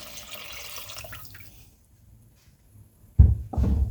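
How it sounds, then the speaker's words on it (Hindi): Quiet trickling at first, then a pause, followed by two loud splashing gushes as about 4 cups of water are poured into a pot of kofta curry. "मैं ये 4 कप पानी डाल दूँगी"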